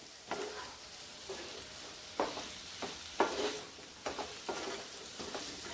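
Potatoes fry in a non-stick pan, a close, steady sizzle broken by several scraping stirs that come in soft bursts roughly every second, with no talking.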